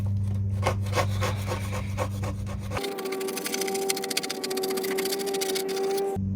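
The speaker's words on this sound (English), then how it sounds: "I can begin doing some scraping." Rhythmic scraping strokes rasp across a boat hull as softened ablative bottom paint is removed, close and steady, with a sustained buzzing tone underneath in the middle stretch.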